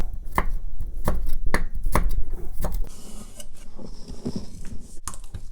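A knife chops beef into small strips on a cutting board for a stir fry, with a quick series of sharp, close knocks in an uneven rhythm, then softer slicing scrapes and a few final taps, without any talk.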